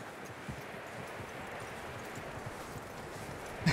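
Horse hooves clip-clop steadily over a rustling, windy outdoor backdrop in the Red Dead Redemption 2 video game, soft and continuous with no talking.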